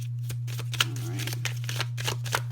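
Tarot cards being shuffled, giving quick rhythmic riffles and soft slaps over a steady low electrical hum, with faint talking in the background.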